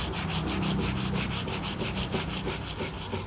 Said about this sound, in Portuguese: Então você tem que ir com a 150 no último pedacinho da lixa 80.